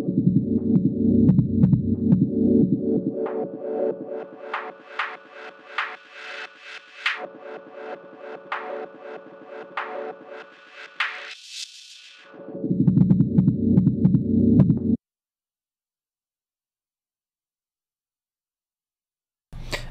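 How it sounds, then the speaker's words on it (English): Synthesizer played through a bandpass filter effect on an Akai MPK Mini, with pulsing, throbbing notes that thin out and sweep upward before a dense low passage returns, then stops abruptly. "So let's switch up our filter type to a bandpass filter,"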